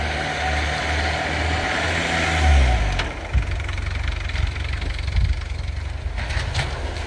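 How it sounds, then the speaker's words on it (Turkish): Tractor engine running on a snow-covered road during a drift attempt, a steady mid-pitched diesel drone that climbs in a brief rev and then drops to a rougher, knocking idle, loud and close with no talk. "Sürücü traktörüyle karlı kaplı yolda drift yapmak istedi."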